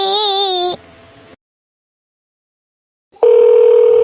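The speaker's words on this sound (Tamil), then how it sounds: "ஃபோன் ரிங் ஆயிட்டே இருக்குது எடுக்க மாட்டேங்கிறானே" Telephone ringing with a bright electronic warble that cuts off after about three-quarters of a second, followed by a quieter tone, a gap of silence, then another loud ring starting near the end.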